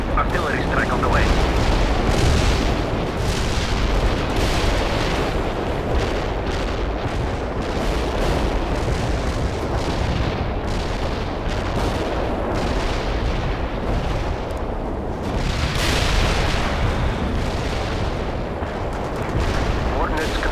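An artillery strike in the video game World in Conflict lands as a dense barrage of heavy booms and rumbling blasts, loud and continuous, with radio-style game voices speaking over it.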